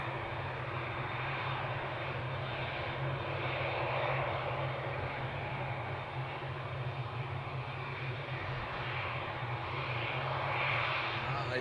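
TUI airliner approaching Amsterdam Schiphol, its jet engine roar a steady, loud, broadband rumble that holds for the whole stretch with no talk.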